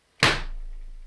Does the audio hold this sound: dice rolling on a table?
no